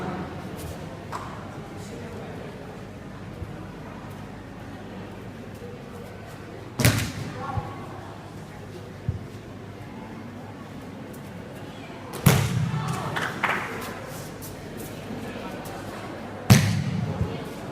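Bodies slamming onto the mat in aikido breakfall practice at a demonstration in Padang, three sharp heavy thuds spaced several seconds apart over quiet room murmur.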